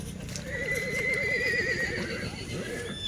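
A horse at the Simaner horse fair gives a long, loud, wavering whinny that fills about three seconds, with no talking over it.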